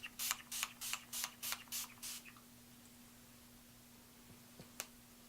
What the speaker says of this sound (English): let's do some setting spray